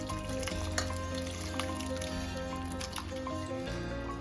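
Cooked potato, aubergine and radish curry being transferred into a pan, giving soft wet squishes and liquid drips over a steady background hum, close and without speech.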